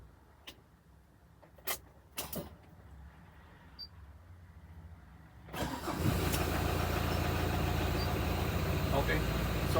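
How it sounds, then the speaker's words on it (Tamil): A Tata Indica DLS car sits quiet with a few clicks and knocks before its engine cranks and catches about halfway through, then settles into a steady, loud idle. "Let's start the engine."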